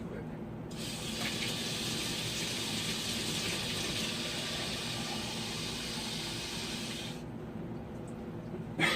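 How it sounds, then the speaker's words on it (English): Regular cold water pouring steadily from a tap into a liquid detergent mix, a constant hissing gush that runs for about six and a half seconds before cutting off, close and alone. "So now that this is all mixed up, I can add this regular cold water"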